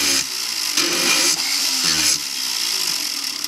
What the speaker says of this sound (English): from the back side, I'm going to take my diamond burr and I'm going to grind a 45 degree angle